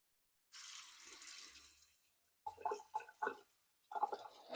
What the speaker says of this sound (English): I am going to rinse out this shirt